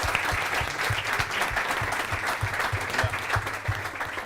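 Audience at an Android developer conference session applauds steadily for about four seconds, a dense, even clatter of clapping that holds at a fairly constant level throughout.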